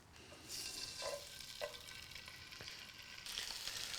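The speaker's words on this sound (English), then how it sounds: "we can hear that sizzling, and that is a beautiful sound" Steady sizzling of sausages browning in olive oil in a hot pan, a constant hiss with a few clinks of a utensil stirring.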